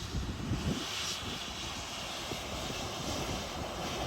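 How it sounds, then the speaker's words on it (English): A United airliner on approach over Maho Beach in St. Maarten, its engines giving a steady broad roar that swells slightly, loud and fairly near, with no talking. "Here comes the United plane!"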